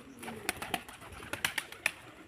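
A pigeon being handled during training gives soft coos amid close rustling and a few sharp wing flaps, quiet and nearby with no talk.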